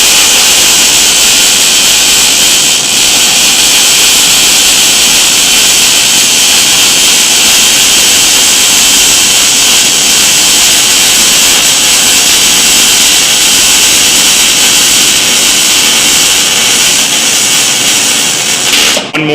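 A wire welder's arc crackles and buzzes loud and close without a break, a harsh steady sizzle of spatter that cuts off abruptly at the very end, with no talk over it.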